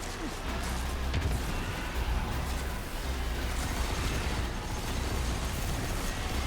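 Weapon fire in Destiny 2 roars continuously as a dense, loud wash of explosive blasts and pops, with little pause between shots throughout.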